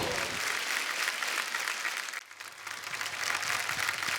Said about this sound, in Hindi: बादशाह बाजी के लिए जोरदार तालियां।